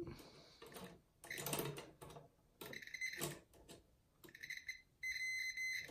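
An electrical tester sounds its continuity beep while wires are identified: a few short, shrill tones, then a longer sustained one, heard alone amid faint handling noise.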